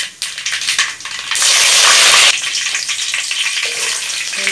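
Mustard seeds fry in oil for Kerala-style mango pickle, with scattered crackling that swells into a loud, close hissing burst for about a second before settling back to a lighter sizzle.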